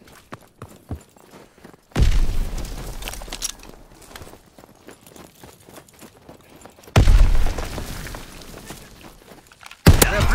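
Grenade explosions in Call of Duty WWII team deathmatch gameplay, with three loud booming blasts at roughly two, seven and ten seconds over quieter battlefield footsteps and clatter.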